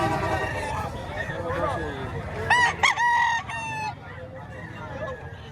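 A rooster of Asil cross gamecock breed, offered for sale at a Batangas poultry market, crows once loudly and near for about a second, amid clucking fowl, background voices and crowd babble.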